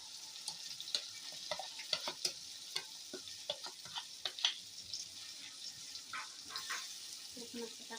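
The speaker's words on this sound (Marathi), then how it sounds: "तर थोडेसे तेलामध्ये ना परतून घ्यायचे, तळून घ्यायचे." Green brinjal frying in a little oil, a steady soft sizzle with scattered sharp crackles and stirring scrapes running throughout, close and moderately quiet.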